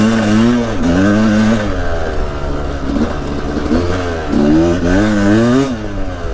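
A Sherco SE-R 300 enduro motorcycle revs up and down close by, its engine pitch climbing and falling in repeated surges, with a steadier stretch between the pulls.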